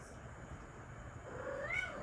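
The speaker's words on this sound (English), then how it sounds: "Sorry, my cat." A house cat gives a short meow that rises toward the end, quiet and close over a faint room hum.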